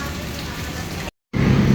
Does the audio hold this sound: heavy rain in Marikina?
yes